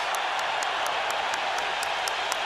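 Boxing arena crowd at a championship bout, a dense, steady roar of cheering with scattered applause, loud and sustained throughout.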